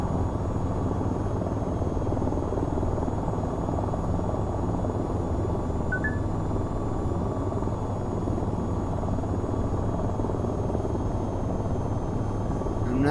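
An AH-94 helicopter flies in the VR flight game VTOL VR, its rotor and engine making a loud, constant drone that stays even throughout.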